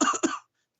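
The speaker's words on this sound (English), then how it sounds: "Yeah, cough more." A single sharp cough, close and fairly loud, with a second short burst right after it, then a pause before another brief cough-like sound at the end.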